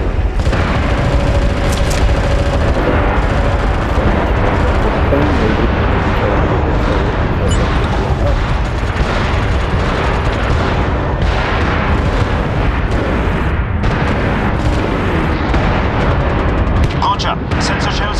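An artillery strike pounds the battlefield in the shooter game MAG: a dense, unbroken roar of heavy explosions and rumbling booms holds at a steady loud level, with radio-style voices heard over the barrage.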